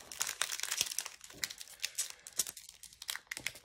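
Plastic foil wrapper of a trading card booster pack being crinkled and torn open, a quick run of sharp crackling rustles and tears close to the microphone with no talking.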